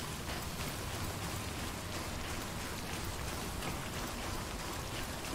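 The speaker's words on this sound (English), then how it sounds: "I guess it makes sense why it's raining so much here" Steady rain in the video game Death Stranding falls without a break, an even, dense hiss of drops hitting surfaces, with nothing else audible.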